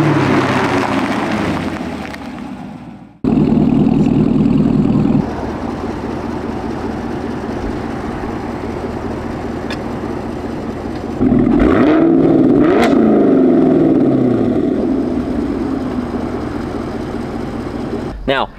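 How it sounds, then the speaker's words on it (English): A Chevrolet Camaro 1LE engine revs up loudly and close by. It surges with a rising sweep partway through, then settles back toward a steady idle, and no one talks over it. "it will rev the engine up"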